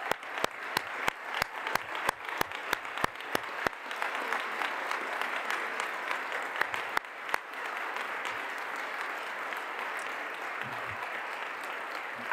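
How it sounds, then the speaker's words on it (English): Audience applause for an astronaut at a Canadian Space Agency announcement, opening with a few sharp individual claps that quickly swell into steady, sustained clapping from a sizeable crowd, fairly distant and continuous to the end. "So again, big round of applause."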